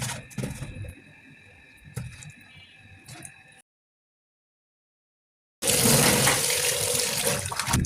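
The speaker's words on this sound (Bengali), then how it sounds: "লবণ দিয়ে ভালোভাবে এভাবে কষলিয়ে কষলিয়ে মাছ ধুতে হবে।" Pabda fish being rubbed with salt and washed under running water, with splashing, handling clatter and flowing tap noise, a gap of silence, then a louder steady gush of water.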